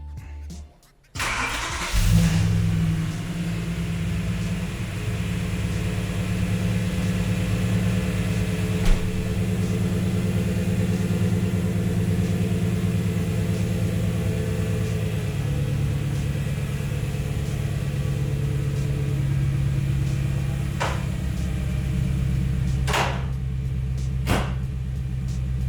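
BMW E9X M3 engine cranking and firing up after a fuel tank breather valve repair, then settling into a steady, loud, even idle rumble with a few brief clicks and blips over the following seconds.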